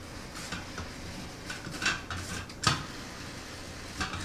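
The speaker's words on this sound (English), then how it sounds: "So I like to stir it around." Melting ingredients are stirred in a bowl, with scattered clinks and scrapes of a utensil against the dish, a couple of louder knocks standing out over quiet background.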